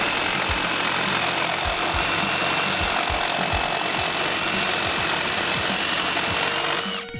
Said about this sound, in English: now we're going to cut through some metal piping here